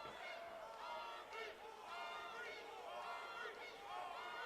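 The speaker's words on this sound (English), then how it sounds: "Got some Obi chants in the crowd going." Fight crowd at a DCS 79 bout between Seth Styskal and Tristen Obermiller, with rhythmic group chanting for Obi rising and falling in steady waves throughout, loud and dense, voices blending into a roaring chant.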